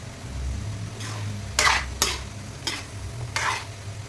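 Potato curry cooking in a pan, a low steady sizzle and simmer beneath several sharp scrapes and clanks of a spoon stirring against the metal, spaced about a second apart.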